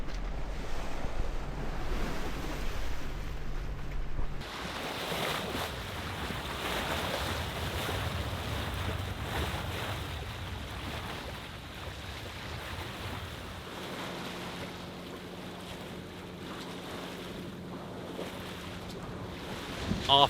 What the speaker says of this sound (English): So on went the motor.